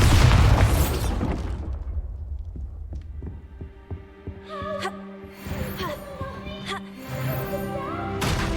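The Bombarda spell explodes in Hogwarts Legacy as a loud, close blast that decays into a low rumble, followed by fainter thuds and ringing magical tones.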